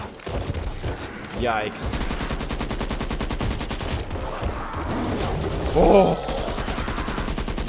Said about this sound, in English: think I can shoot him through the window right here.